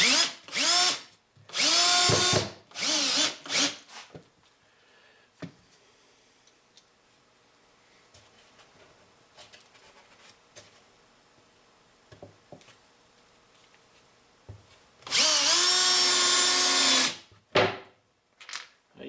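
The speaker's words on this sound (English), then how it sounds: "This is one place where you kind of really do need a powered screwdriver" Loud bursts of a powered screwdriver driving screws while assembling beehive boxes whir in short runs at the start, a long quiet stretch of small clicks and taps, then another sustained drilling burst.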